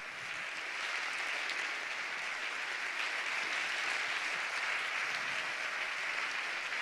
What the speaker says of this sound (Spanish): vamos a despedir con un fortísimo aplauso al equipo Cajaruel Seguros RGA profesional y al equipo amateur